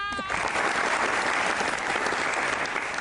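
A television studio audience breaks into loud, dense applause that holds steady throughout, with a brief sung note heard at the very start.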